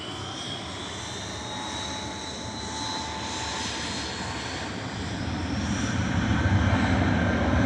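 Airbus A319 airliner landing at Manchester Airport, a broad continuous jet engine roar with a faint high whine that swells steadily louder toward the end as the plane nears.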